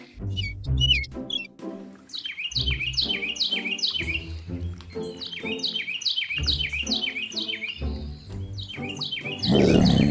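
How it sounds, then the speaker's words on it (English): Birds chirp and tweet in repeated rapid phrases, clear and fairly close, over a low rumbling background with pauses between bursts. "Let's use our ears to listen to the birds sing."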